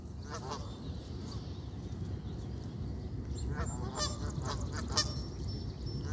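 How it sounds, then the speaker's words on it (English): Scattered goose honks, fairly faint and somewhat distant, over a steady low rumbling background of a Norfolk Southern freight train with a BNSF locomotive in Bethlehem, Pennsylvania. "Move, geese."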